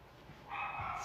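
A small dog gives a couple of short, faint yips indoors, brief and somewhat distant.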